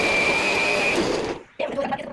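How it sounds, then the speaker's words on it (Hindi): Mixer grinder blending momo filling to a fine paste, a loud steady whirring motor grind that cuts out briefly and then restarts. "अब इसको मिक्सर में पीस लेंगे अच्छी तरह से, एकदम पूरा पतला पतला।"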